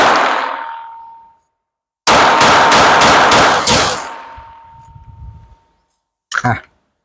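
Glock 44 .22 LR pistol firing mixed ammunition at a shooting range: a quick string of about six sharp shots, loud and close, then a ringing tail and one more shot after a pause.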